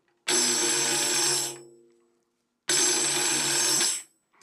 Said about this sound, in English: here's what this one sounds like with a finger roll